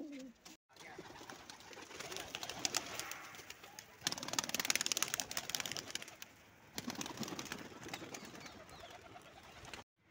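Pigeons cooing in a loft with chicks, soft low repeated coos mixed with rustling and handling noise close by, while someone speaks over them.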